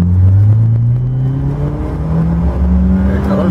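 A Volvo 740 SE engine pulls at full throttle in first gear, a loud, steady rising drone that climbs in pitch across the whole stretch, heard close from inside the car with no talking.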